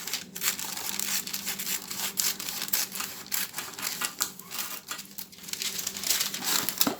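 Scissors snip through baking paper, a rough square cut for lining a cake tin, giving a busy run of close crinkling, rustling cuts with no talk.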